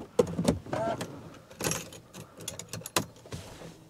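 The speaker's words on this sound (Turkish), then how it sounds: "Dur, anahtarı takalım bir." A key going into the ignition of a Mercedes CLS 320 CDI Facelift (W219), heard as close metallic jangles and clicks with a few louder knocks inside the car, alone and without talk.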